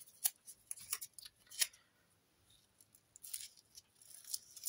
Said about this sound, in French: On coupe en deux.